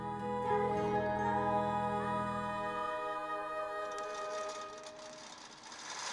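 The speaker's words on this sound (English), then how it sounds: "This is a long arm quilting machine." A long arm quilting machine runs steadily, its motor droning with sustained tonal whine at close range, then shifts pitch and thins out as it is pulled across a quilt; no talking.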